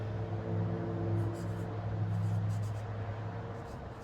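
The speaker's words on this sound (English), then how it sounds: "And then let's write with the fine tip." Fine tip of a Zebra Mildliner fluorescent highlighter scratching across paper in short, faint strokes, close up over a low steady background hum.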